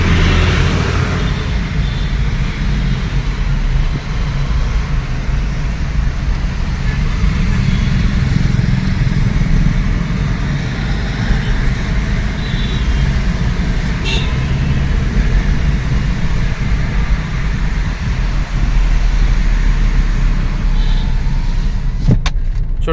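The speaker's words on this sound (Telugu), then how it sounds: "ఫ్రెండ్స్ ఇక్కడ గమనించండి, నా విండో గ్లాసెస్ అనేది డౌన్లో పెట్టుకొని ఓపెన్ చేసి డ్రైవింగ్ చేస్తున్నాను." With the front car windows rolled down while driving, a loud, constant roar of wind buffeting and road rumble fills the whole stretch, with no break.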